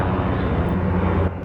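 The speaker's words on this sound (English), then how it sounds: "let's give it a second, there's a helicopter" A helicopter flying overhead outdoors on a bright day, heard as a steady, broad engine-and-rotor roar that holds level throughout and eases slightly near the end, with no talking.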